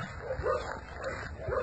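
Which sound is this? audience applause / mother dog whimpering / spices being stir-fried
mother dog whimpering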